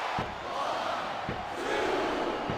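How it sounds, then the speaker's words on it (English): Arena crowd in the wrestling video game WWE 2K25 roaring and shouting in a steady wash of noise, with a few sharp thuds punctuating it and no one speaking. "Listen to the crowd, JR."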